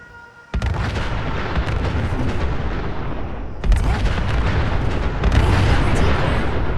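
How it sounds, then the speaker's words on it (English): Heavy, sustained gunfire from gunners in Fallout 4, a dense barrage of shots and booms that starts abruptly, then swells louder partway through, with no talking. "Look, they're firing!"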